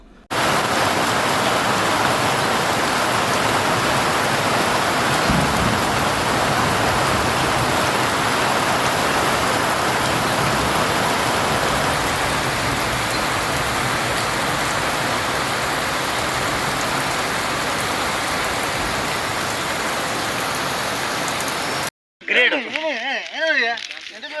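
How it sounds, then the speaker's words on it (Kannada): A loud, constant roar of pouring rain in Sirsi taluk fills most of the recording, then cuts off abruptly near the end, where a voice briefly speaks. "ನಗರ ಹಾಗೂ ಗ್ರಾಮೀಣ ಭಾಗದ ಹಲವೆಡೆ ಮಳೆ ಸುರಿದು ತಂಪಾಗಿಸಿತು"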